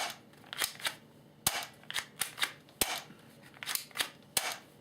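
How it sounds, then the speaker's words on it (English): An XK918 Match 1911 airsoft handgun being cocked, a run of sharp metallic clicks and clacks in an irregular rhythm, close and fairly quiet. "Okay, and then I'll just cock it like this."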